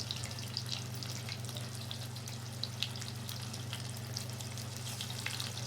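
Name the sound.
brinjal and potato fritters frying in oil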